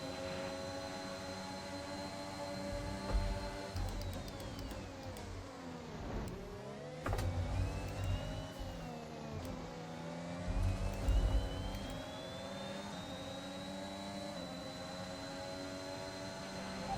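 Race cars in the F1 2021 video game circle the Imola circuit, their high-pitched engine whine holding steady and dipping and rising through gear changes, with several cars passing close in quick succession.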